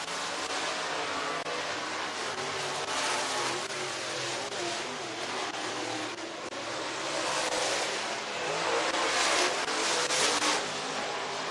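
Limited late model race cars roar around the Talladega Short Track on a Friday night, a distant blended engine drone that swells and fades as the pack circles, with no speech.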